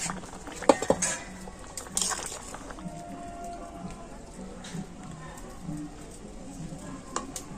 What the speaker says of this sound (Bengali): এবার আমি ঢাকা খুলে দেখে নেব আলু সিদ্ধ হলো কিনা